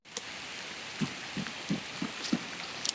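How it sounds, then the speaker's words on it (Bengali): Steady rain hissing on surfaces of a dragon fruit farm, with a series of soft, low thumps at irregular intervals. "অনেক বৃষ্টি হচ্ছে"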